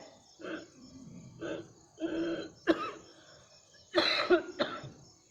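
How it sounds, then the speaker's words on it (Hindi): Several hoarse coughs and throat-clearing bursts, close and fairly loud, spaced irregularly with short pauses between them. "हो सकता है खांसी आ जाए।"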